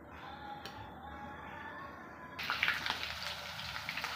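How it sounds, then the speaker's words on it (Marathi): A ground masala paste of onion, garlic, ginger, coriander and coconut drops into hot oil and sizzles, the frying hiss rising abruptly partway through. It is faint and close, with no talk. "मस्त तळून घेते मसाला"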